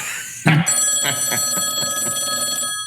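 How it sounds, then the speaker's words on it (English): A telephone bell gives one bright, sustained ring that starts abruptly and holds steady for about two seconds before cutting off, loud and close, with no talking over it. "Just let it keep ringing, Russell."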